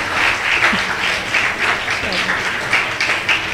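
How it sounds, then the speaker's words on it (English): An audience applauds steadily at a college convocation ceremony, a dense wash of clapping that holds at an even level, with faint voices mixed in. "Applause."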